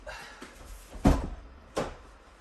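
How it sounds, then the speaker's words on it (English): A door on a 2023 Sprinter van opens inside the cargo area with a sharp latch clunk, and a second, lighter thump follows about a second later; the interior is otherwise quiet. "I'm gonna open this door."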